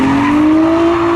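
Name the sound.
Ghostbusters-themed car at spectator drag race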